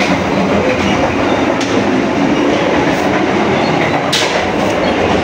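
Economy class train running, heard from the gangway between carriages: a loud, constant roar of wheels and rattle with steady clatter, close and alone.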